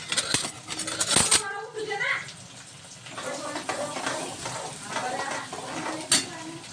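Onion drops into hot oil in a pan with a sharp clatter and a burst of sizzling, then keeps frying softly under brief stirring noises and some quiet background voice.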